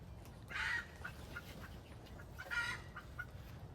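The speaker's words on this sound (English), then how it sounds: "the chickens are going crazy" Chickens cluck and squawk in a couple of bursts, fairly faint and at a distance, with quieter clucks scattered between.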